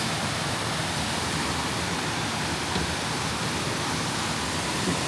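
Waterfall at Citico Creek, a steady broadband roar of rushing water, loud and close, unbroken for the whole stretch with no voices.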